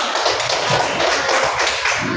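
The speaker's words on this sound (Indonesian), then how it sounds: "Oke, tepuk tangan dulu." A classroom group of students claps together in a loud, close burst of brisk, dense hand claps lasting a couple of seconds, with no talking over it.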